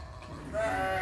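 A sheep lets out a single close, loud bleat partway through, with farm background noise before it and no talking.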